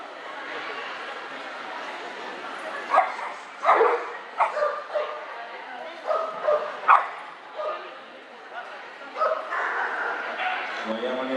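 Dogs fetching balls outdoors give repeated short yips and barks at moderate distance, bursts spaced irregularly over a quiet background, with occasional whimpers.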